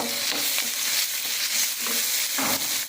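A cauliflower dish sautés in a pan with a loud, dense sizzle, and a spatula scrapes and stirs through it repeatedly, close up and without any voices.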